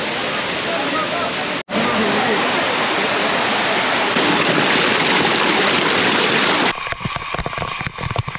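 A monsoon-season waterfall near Sreemangal or Sylhet roars as a steady, loud broadband rush of falling water, continuous and close, with a brief dropout and some rougher handling noise near the end.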